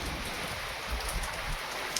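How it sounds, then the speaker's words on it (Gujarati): Heavy monsoon rain pours on a Gujarat farm, a dense, even hiss of drops hitting the ground and surfaces close by, with no voices. "જો ભાઈ વરસાદ"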